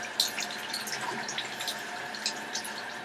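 Dentures rinsed under a running tap at a sink, a steady close hiss of flowing water with small splashes and irregular spatter as the plate moves through the stream, no talking.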